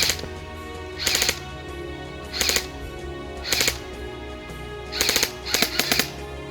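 Ares AM-013 Honey Badger airsoft rifle firing at targets outdoors, several short sharp bursts of rapid mechanical shots separated by pauses, loud and close with no talking.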